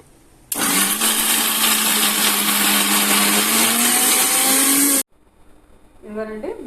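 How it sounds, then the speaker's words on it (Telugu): A kitchen mixer grinder whirs loudly for about four and a half seconds, blending beetroot, carrot and tomato into a paste, its motor pitch climbing slightly before stopping abruptly; faint speech follows. "ఈ 3 మనం ఈ మిక్సీ జార్లో వేసేసుకుని కొంచెం పేస్ట్ లాగా చేసుకుని"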